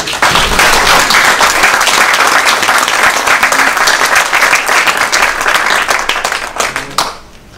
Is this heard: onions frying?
no